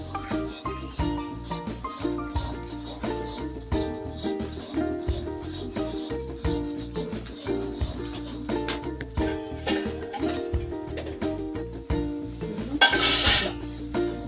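A spoon clinks and scrapes steadily against a pan while Mysore pak mixture is stirred continuously, with repeated metallic taps and a brighter clatter near the end.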